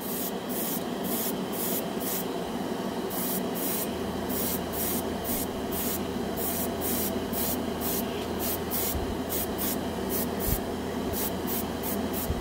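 Airbrush spraying Vallejo Air paint onto a primed white plastic spoon, a steady continuous hiss broken into short rhythmic bursts from repeated trigger pulls, close and even throughout with no talking.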